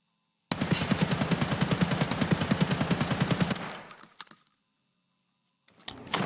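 An AK-102 rifle fires uncontrolled in a video game: a loud, close, rapid full-auto burst of about three seconds that cuts off into a brief mechanical rattle, followed by silence and a faint clatter.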